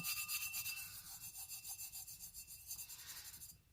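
Glitter being rubbed onto tacky adhesive in a tack-it craft method, a steady, close, rhythmic scratchy rasping of fine glitter strokes that stops abruptly near the end, with no talking.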